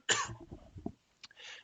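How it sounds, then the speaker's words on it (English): A person coughs hard once, followed by a rough throat-clearing rasp and a short breathy tail, close and fairly loud. "I'm seem to be starting to have a coughing fit"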